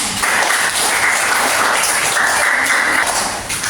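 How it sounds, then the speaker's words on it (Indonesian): Loud applause from a group of students fills the classroom, steady clapping lasting a few seconds before tapering off at the end. "Oke, tepuk tangan."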